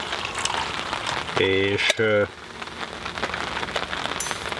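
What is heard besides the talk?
rain falling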